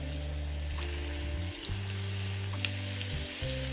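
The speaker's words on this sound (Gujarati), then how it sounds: "તેલ ગરમ થઈ જાય ત્યારબાદ આપણે એમાં છે એ થોડું લસણની પેસ્ટ ઉમેરી દઈશું" Garlic paste sizzles steadily in hot oil for Gotalo pav bhaji, a constant bright frying hiss held at even loudness throughout, with low steady hum beneath and no voices.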